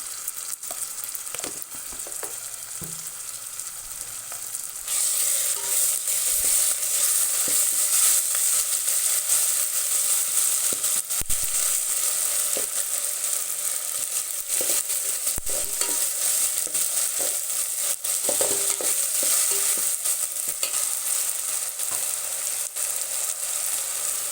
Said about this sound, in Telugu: ఇప్పుడు అల్లం వెల్లుల్లి 1 స్పూన్, ఇంకా 1/2 స్పూన్ వేస్తున్నాను.